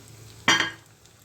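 Chopped turnips (gogji) drop into a tablespoon of hot oil in a pan and hiss with a sudden close sizzle that fades within a second.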